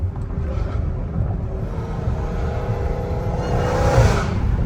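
A Dodge Challenger Hellcat Redeye revs loudly and rumbles low, with a rising supercharger whine that climbs toward a peak near the end.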